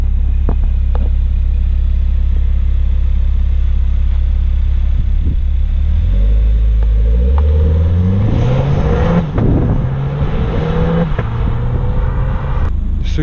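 A car with its stock factory exhaust system idles with a loud, deep rumble, then pulls away, the engine note rising in several revving steps as it accelerates; it stays close and steady throughout.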